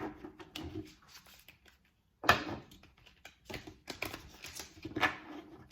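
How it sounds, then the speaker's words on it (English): Oracle cards being shuffled by hand in a series of crisp riffling and slapping bursts, close and fairly loud, with a short silent pause before the shuffling resumes in rapid irregular flurries. "I'm like shuffling the cards"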